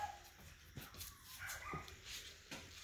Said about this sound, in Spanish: Si oyen al fondo que ladran unos bulldogs, son unos shih tzus que yo tengo